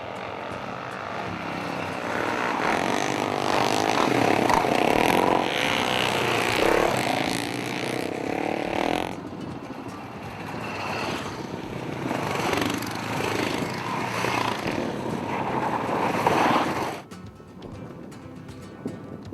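Motorcycles ride along dusty mountain tracks near the Spanish border, their engines droning loudly and steadily, rising and falling in intensity, with a short break midway and a quieter fade at the end.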